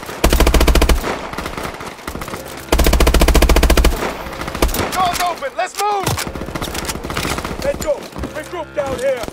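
Rapid automatic gunfire in the Call of Duty: Advanced Warfare single-player campaign, with two long loud bursts of machine-gun fire, then scattered shots and battle effects while voices shout over the fighting.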